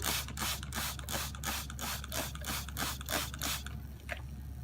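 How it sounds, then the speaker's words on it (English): Corona discharge on a 2400-volt cutout fuse makes a regular, pulsing crackle, about three bursts a second, over a constant low electrical hum. The pulses stop near the end, leaving a single faint crack. "and we got some visible corona"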